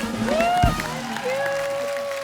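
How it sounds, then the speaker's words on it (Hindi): A studio audience on The Kapil Sharma Show applauds: a steady bed of clapping and crowd noise sits under sustained tonal music and a voice. "जोरदार तालियां।"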